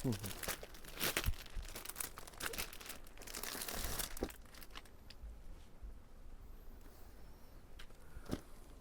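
A silk saree from a wholesale textile shop in Kolkata is unfolded from its packaging, making close crinkling, rustling and tearing noises that fade to a quieter rustle, with someone talking throughout.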